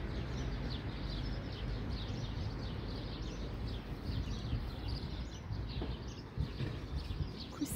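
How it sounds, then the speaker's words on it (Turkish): Small birds chirp and tweet repeatedly outdoors among yellow acacia, their faint calls scattered over a steady bed of soft background noise, with no voices. "Kuş sesleri."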